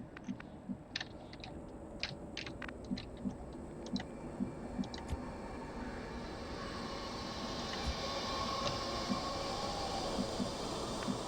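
The ADVENT train in the video game XCOM 2 rumbles along with a steady mechanical roll and rhythmic clacking, building into a broader, louder rushing drone over several seconds, without voices.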